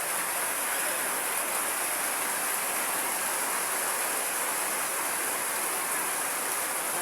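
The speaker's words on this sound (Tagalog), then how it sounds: "Palakas ng palakas ang rain." Heavy rain pouring down in a steady, dense hiss that stays loud and unbroken from start to finish, with no voices.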